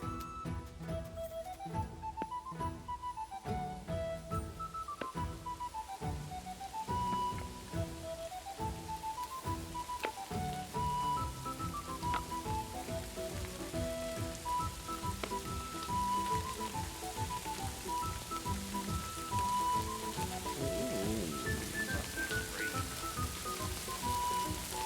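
Steady rain patters in Kingdom Come: Deliverance II, a soft, continuous hiss running beneath a gentle medieval melody played throughout.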